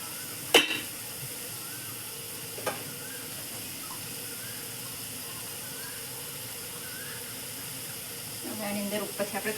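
Boiled noodles tipped from a pot into a strainer give a faint, steady watery hiss with a couple of sharp clinks, and a short burst of voices comes near the end.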